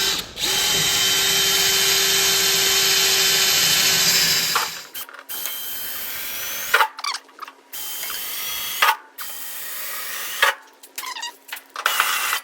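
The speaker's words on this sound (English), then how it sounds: "I'm just gonna drill these, wallow them out with the step bit" A power drill runs steadily with a step bit for several seconds, enlarging holes in metal during a brake booster install on a rat rod build, then stops and follows with short intermittent bursts and pauses, close and loud.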